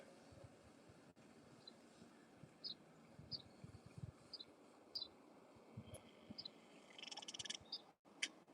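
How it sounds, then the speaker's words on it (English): A frog croaks outdoors in a series of short, regularly spaced calls that grow busier toward the end, heard at moderate distance over steady low background noise with no talking. "we got us a frog cutting up."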